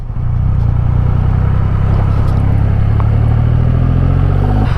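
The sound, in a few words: Triumph Rocket 3 R motorcycle riding, quick shifter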